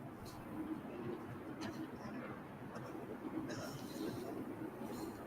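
Pigeon or dove cooing, apparently in a game set in a frozen city, a few soft coos over a steady low rumble with faint talk-like murmur throughout.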